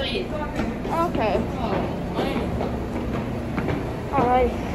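Subway train in New York riding along the rails with a steady rumble and rhythmic clatter, while people talk excitedly over it throughout.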